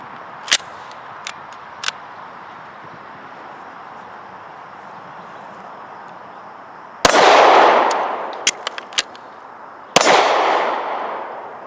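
Magazine reloads on an HK VP9 pistol, the magazine drawn from a pocket: a few light, sharp clicks, then two louder metallic slaps, each followed by brief rattling and handling noise, close by with no talk.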